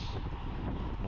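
Strong headwind buffets the microphone during a road bike race, a constant low roaring rumble with no voices over it.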